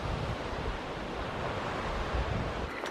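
Ocean waves wash continuously onto a beach far below a rocky clifftop, a steady broad roar with some wind across the microphone and no voices.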